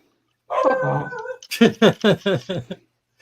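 A dog gives a short whining cry, then a rapid run of about six sharp barks close to the microphone, with no talking over them.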